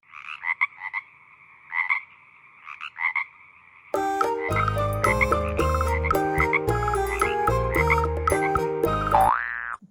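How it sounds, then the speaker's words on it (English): Several short frog croaks come in separated bursts, alone and fairly clear, before bright music takes over partway through. "F for frog."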